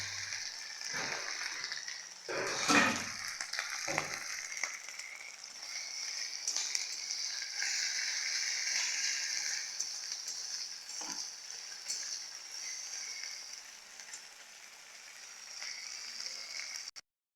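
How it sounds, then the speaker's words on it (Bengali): Ginger-garlic and cumin paste fries in oil for a rui fish curry, making a soft, continuous sizzling hiss with a few brief stirring knocks early on. "আদা রসুন বাটা আর জিরা বাটা এটাকে ভেজে নিতে হবে"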